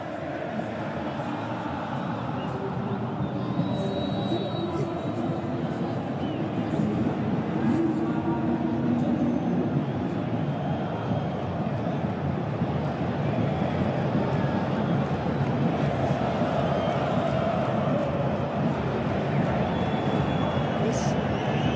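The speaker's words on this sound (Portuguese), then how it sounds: "o som da torcida do Corinthians no estádio em festa pelo título brasileiro" Corinthians supporters packing a stadium and celebrating the Brazilian league title, a loud, dense, unbroken crowd roar throughout.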